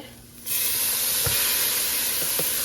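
Green chile hitting hot grease and flour in a pot sets off a sudden loud, steady hiss and sizzle that carries on evenly, with a few faint stirring knocks underneath.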